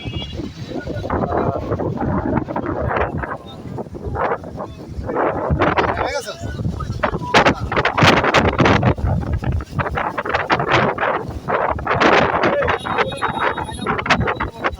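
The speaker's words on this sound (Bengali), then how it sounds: "প্রচুর 70 কিলোমিটার বেগে বাতাস হচ্ছে এখন" Strong storm wind gusting at around 70 km/h while people sit on a rooftop, buffeting the microphone loudly and continuously for the whole stretch, with voices talking over it.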